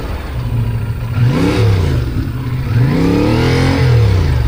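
A motorbike engine revs hard and unevenly in first gear while straining up a very steep hill climb in the Margalla Hills, its loud, close drone rising and falling in pitch with no talk.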